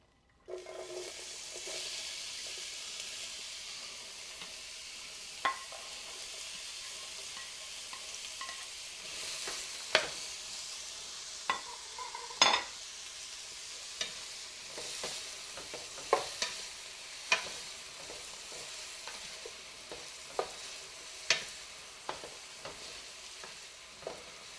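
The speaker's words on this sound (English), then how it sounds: "All right, let me throw some onions in here." Onions frying in a pan for beef fried rice, sizzling softly and steadily throughout, with occasional sharp clicks and scrapes from stirring, fairly quiet overall.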